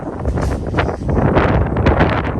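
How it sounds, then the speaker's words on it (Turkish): Strong wind buffets the microphone in loud, gusting rushes that rise and fall without pause. "şu an yürümekte bile zorlanıyoruz rüzgardan dolayı. Çok fena hava."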